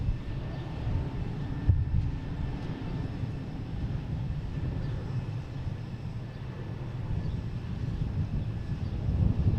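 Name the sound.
JetBlue Airbus A220 taking off at Boston Logan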